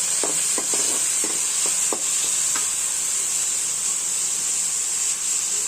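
Onion and tomato sauté in a pan for quick egg noodles, with a loud, continuous bright sizzle and a few short scraping stirs near the start.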